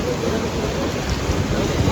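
Heavy rain pours down during a flood near Vayal village, where a bridge lies submerged; a dense, steady rushing hiss fills the whole stretch, close and loud, with no letup.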